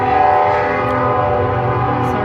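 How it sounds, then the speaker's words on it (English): A train passes close to the track with its horn sounding, a loud, sustained chord of blaring tones over a rumbling rail roar near Olive Branch, Mississippi. "Hear the train. Near the train track."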